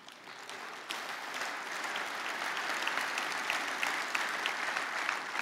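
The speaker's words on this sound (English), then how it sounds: "you can clap" Steady applause from a church congregation during a sermon, a dense wash of many hands clapping at a fairly even level that swells slightly after the first second and holds throughout.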